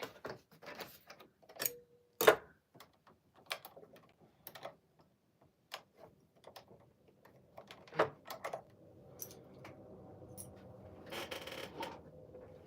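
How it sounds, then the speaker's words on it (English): Small sharp clicks, taps and rattles come from a sewing machine's bobbin area as a new bobbin is fitted, scattered and close, with a low hum setting in near the end. "So the bobbin is out. We'll put a new one in."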